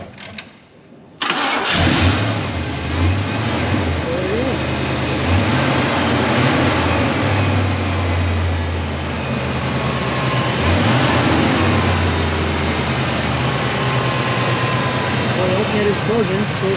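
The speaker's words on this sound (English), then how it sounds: "Alternator's charging, so it's idling." A grandpa's old Ford Mustang Foxbody, recently revived, cranks and catches, then settles into a loud, steady idle with a low rumbling throb, while people talk over it.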